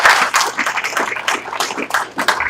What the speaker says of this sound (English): So a round of applause to everyone in the room.